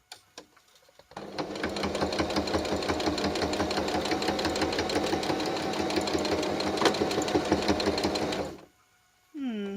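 A sewing machine stitches hand grips for a disability walker, running in a steady, fast mechanical whirr for about eight seconds before stopping. There are faint sounds before it starts and a brief tone just after it stops.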